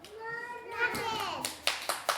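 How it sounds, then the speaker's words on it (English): A young child in an early-years class claps hands four times, sharp and close, in an uneven rhythm after a voice is heard. "He's clapping."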